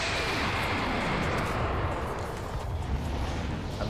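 An ultimate-ability bombardment in an Apex Legends match makes a continuous roar of overlapping explosions and artillery-like booms, loud and sustained for the whole span.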